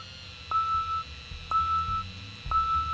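Alarm in the video game Thief Simulator 2 with three evenly spaced electronic beeps about a second apart, each a clear sustained tone over a low rumbling game background.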